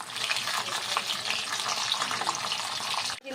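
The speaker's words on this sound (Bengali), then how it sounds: "তেলে আমি পটলগুলোকে ভাজা করে নেব" Pointed gourds fry in hot oil, giving a close, even hiss and crackle that runs steadily until a sudden thump near the end.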